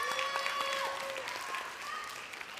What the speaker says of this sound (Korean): 우리 수고하는데 박수 한번 보내줍시다